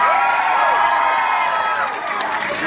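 A live rock concert crowd in a London club cheering and shouting for a guest, a dense roar with a few high whoops, loud and continuous, easing slightly toward the end.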